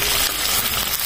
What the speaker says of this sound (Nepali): प्याजलाई गोल्डन ब्राउन हुनेसम्म थोरै भुटौँ